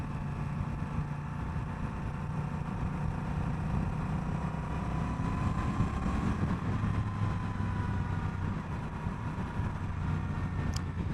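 A Honda Rebel 1100 motorcycle being ridden on the road: a steady engine drone with wind rush, continuous and moderately loud throughout, rising slightly in pitch midway.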